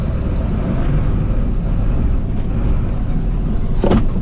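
Steady, loud engine drone and road rumble from a Mercedes-Benz Axor tractor truck driving over a bumpy road, heard from inside the cab with a few knocks and rattles.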